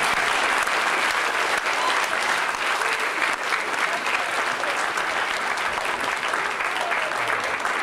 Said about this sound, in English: Let's give a round of applause to these guys up here.